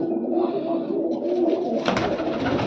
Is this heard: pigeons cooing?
yes